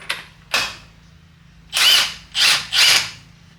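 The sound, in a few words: rattle gun (impact wrench) loosening a 27mm bolt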